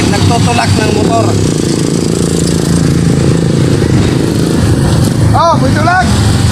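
A motorcycle or tricycle engine runs up close with a loud, continuous rough idle and rumble, while voices talk over it.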